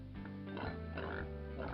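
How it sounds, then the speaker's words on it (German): Pig fish squealing in the Freddi Fish adventure game: a short run of close, loud cartoonish oinks and grunting squeals, several quick calls in a row over a sustained musical background. "Ich glaube, ich höre Nochmal etwas quieken."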